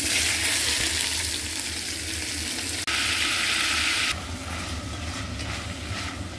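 Chopped onions hiss and sizzle steadily in a pan over lowered heat while an oxtail braise is prepared, a dense continuous frying noise that briefly drops and then continues at a slightly softer level, with no talking.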